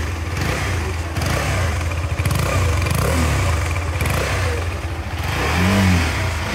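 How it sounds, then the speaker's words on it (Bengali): A KTM motorcycle's engine, freshly serviced with an oil change, runs steadily and loudly up close with a low rumbling drone throughout, swelling slightly near the end. "ফাইনালি আমাদের বাইকের মোবিল চেঞ্জ হয়ে গেছে, সাউন্ডটা শোনো এবার।"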